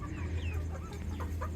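Farmyard hens cluck in a few short, bright calls over a steady low background hum, near and fairly loud, with goats and rabbits kept nearby and fodder just thrown down. No one speaks.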